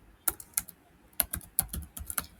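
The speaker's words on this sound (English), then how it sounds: "I'll just type Flutter new project" Keys clack on a computer keyboard in a short run of quick, uneven taps, close and fairly crisp, with brief pauses between clusters and no voice.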